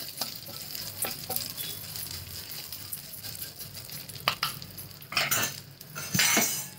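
Vermicelli roasts in a pan for Indian sevai kheer while a spoon stirs it, producing a low frying crackle under a run of close metallic scrapes and clinks that grow busier and louder toward the end.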